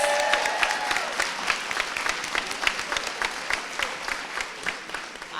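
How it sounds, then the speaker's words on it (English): An awards-ceremony audience gives a round of applause, with sharp individual claps and some cheering over a broad crowd clatter, loud and close. "Let's give them one more round of applause."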